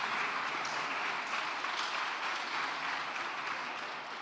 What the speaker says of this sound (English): That applause is definitely for you.